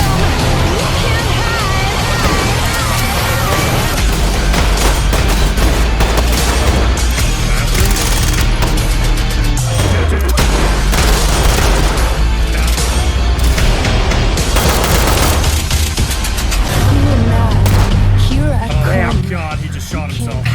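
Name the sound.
gunfire and explosions in a tactical shooter video game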